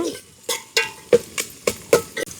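Onions and green chillies being stirred in a frying pan, with about eight sharp scraping strokes of a spoon against the pan at a steady rhythm over a faint sizzle, loud and close.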